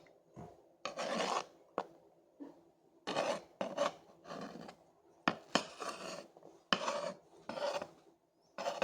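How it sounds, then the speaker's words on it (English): A knife scrapes and pushes chopped scorpion peppers across a pan, giving repeated close rasping scrapes in short bursts with brief pauses between strokes, and no talking. "I'm just going to use the knife to maneuver these into the pan."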